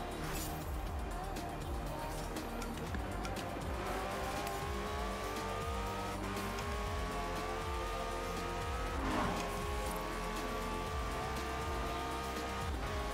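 Engine sound from a car in the racing game Forza Horizon 4 played with a wheel: a steady droning engine that rises in pitch as it accelerates through gears, with faint tire noise, continuous and fairly close.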